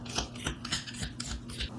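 Vegetable peeler dragged along a carrot while preparing vegetables for chicken soup, giving a series of short scraping rasps, about six strokes in a steady rhythm, close and fairly quiet with no talking.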